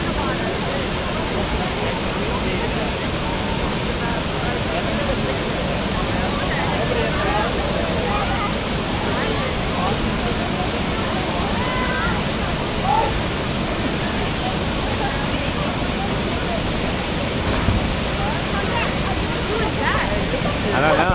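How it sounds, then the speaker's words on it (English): Steady, loud roar of the waterfall at Fossil Creek Falls, a dense wash of falling water that fills the whole stretch without a break, with voices of people at the swimming spot faintly audible beneath it. "You want to go under the waterfall?"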